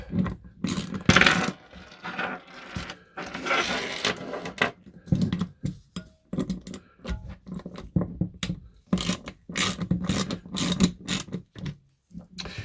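Exhaust manifold fasteners being cracked loose on an Astra H Z16XEP twinport engine, heard as a series of sharp metallic clicks and ratcheting bursts at irregular intervals, close and fairly loud, with no talking.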